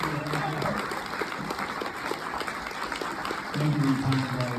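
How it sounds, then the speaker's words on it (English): An audience at a film Q&A gives a round of applause, moderately loud clapping heard with voices talking over it. "one more round of applause"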